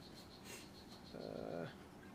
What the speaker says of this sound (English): Nice to hear frogs are calling.